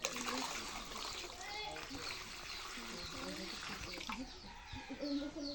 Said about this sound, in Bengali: তো আমি আর একটু পানি দিই